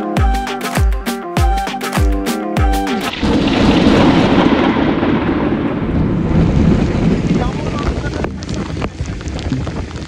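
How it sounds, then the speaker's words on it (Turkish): A short burst of rhythmic music gives way to heavy rain in the Amazon, a loud, steady roar of downpour with thunder rumbling underneath and wind buffeting the microphone. "Ama giderek artan yağmur bizi tedirgin ediyordu."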